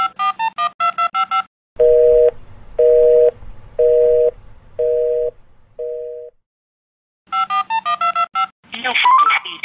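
Telephone call tones on the TIM mobile network in Brazil: a quick run of dialing beeps, five steady repeated ringback or busy tones, then more dialing beeps, clear and loud, ending with a brief burst of other sound.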